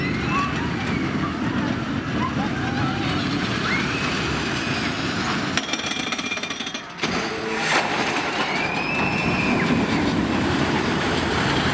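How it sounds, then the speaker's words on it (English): Steady rumble and clatter of a ride on the train at Pleasurewood Hills theme park, continuous and close throughout with wind and track noise, a brief dip near the middle and occasional faint tonal squeals. "Had a really nice relaxing ride then on the train"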